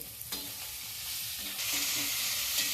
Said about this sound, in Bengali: এবার আমি কুচানে মুলোগুলো দিয়ে দিচ্ছি